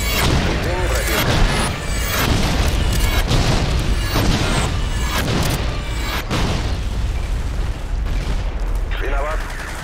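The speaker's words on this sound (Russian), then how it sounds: "Кидаю гранату." A grenade blast in the video game Apex Legends, played as Gibraltar, amid continuous loud gunfire, booms and rapid shots that fill the whole stretch, with occasional game voice lines.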